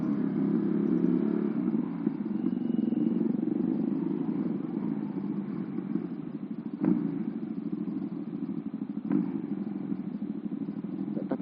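A modified two-cylinder Honda Astrea Prima motorcycle runs with a steady, droning engine note close by, holding fairly even with a couple of brief clattering blips along the way.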